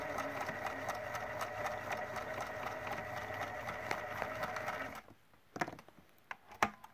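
A sewing machine stitches fabric in reverse, running with a steady, fast mechanical whir for about five seconds before stopping, followed by a few faint clicks and handling noises.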